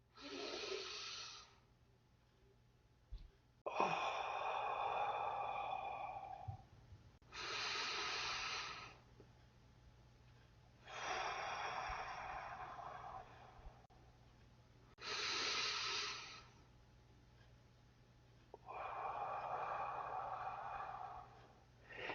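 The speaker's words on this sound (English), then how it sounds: "that's where shallow breathing takes place in the upper chest. So I'm going to do a couple for you" Shallow upper-chest breathing demonstrated in a quiet room: a series of breathy inhales and exhales, each lasting a couple of seconds and separated by short pauses, close and fairly soft.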